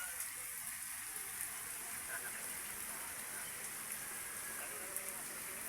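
Steady rain falls on plants and surfaces after a dry spell, a continuous soft hiss with scattered drops, fairly near and even throughout with no other sounds.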